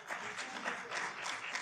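Applause from the audience at a national conference on mental well-being, a soft, steady patter of clapping heard at a distance over a short stretch.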